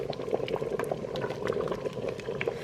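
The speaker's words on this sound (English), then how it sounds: "So I'm gonna let this simmer for about" Pinto beans simmer in an Instant Pot with close, continuous bubbling and soft popping, an even gurgle that carries small bursts throughout.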